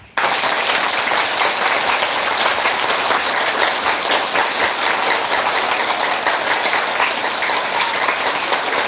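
An audience at a live yoga gathering claps loudly for Baba Ramdev, a dense, sustained burst of applause that starts abruptly and holds steady for several seconds without talk.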